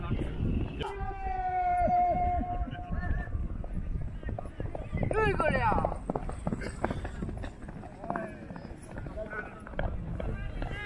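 Horses at a tent pegging event at Khuiratta stadium neigh and whinny with a clear rising call, with hoof clip-clop, a galloping run and crowd noise, while people talk and shout over the busy, fairly loud scene.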